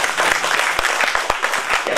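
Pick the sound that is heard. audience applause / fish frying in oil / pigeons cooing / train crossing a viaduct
audience applause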